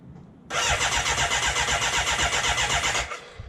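A BMW K100 motorcycle starter motor cranks loud and close in a fast, even whirring rhythm for about two and a half seconds, then stops; no voices are heard.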